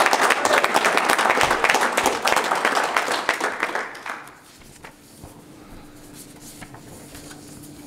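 An audience applauds at a fire academy class graduation, a dense burst of clapping that holds for about four seconds, then fades to scattered claps and room murmur.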